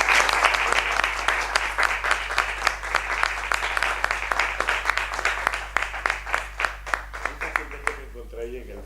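An audience at a book event gives a lively round of applause, crisp claps close by that gradually thin out and fade near the end, with some talk underneath.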